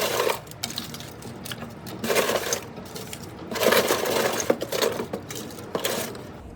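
Chunks of thermoplastic waste clatter into a melting container in several quick bursts of hard, rattling impacts, with brief pauses between handfuls, close and fairly loud.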